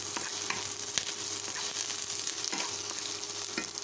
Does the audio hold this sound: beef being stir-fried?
yes